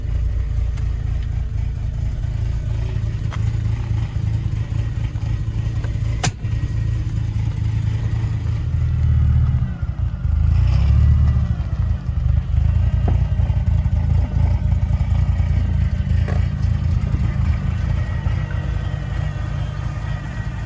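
Engine of a VW Corrado G60 with about 158,000 km on a test drive, a steady, loud low drone running throughout with a brief swell in revs near the middle, heard from close by and with no talk.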